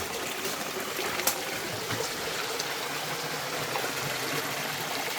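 A small forest waterfall and stream in Kanchanaburi rushes and trickles in a steady, even wash, moderately close and alone.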